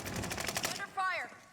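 A rapid burst of automatic gunfire in a video game, loud and close, about a dozen quick shots in the first second, then a short gap and a single voice speaking at the end.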